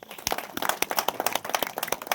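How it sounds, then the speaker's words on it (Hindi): An audience at a political rally in a village claps briefly, a dense patter of many hands with sharp individual claps standing out, moderately loud and without speech. "उनके लिए एक बार ताली बजा दी।"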